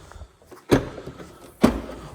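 Doors of a 2022 Mini Clubman 2.0 Cooper S being opened: two sharp, close latch clunks roughly a second apart, each followed by a brief rustle, with no talking.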